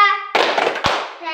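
Children chant together in an Indonesian primary-school class clap routine, a burst of sung voices with a sharp clap near the middle, loud and close, framed by sustained harmonic tones at start and end.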